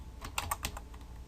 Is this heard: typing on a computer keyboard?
yes